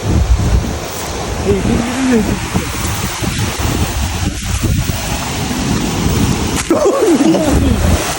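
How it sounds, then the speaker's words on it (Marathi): Steady, loud rushing roar of Dodhani waterfall fills the scene, with a few voices and laughter heard faintly over it. "बघा बघा सुंदर असा धबधबा"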